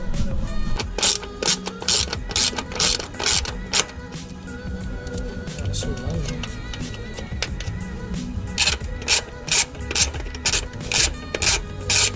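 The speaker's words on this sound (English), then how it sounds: "Now we gotta start taking off that bolt, these 2 bolts right here" A ratchet removing bolts on an Infiniti G35 during a clutch line install, heard as close, rapid bursts of clicking strokes repeated in quick rhythm with short pauses, clear and fairly loud.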